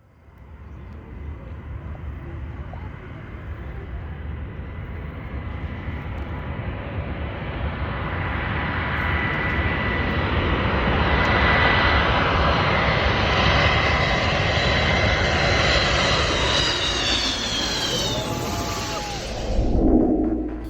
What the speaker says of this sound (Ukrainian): Ан-225 це унікальний літак, єдиний в своєму роді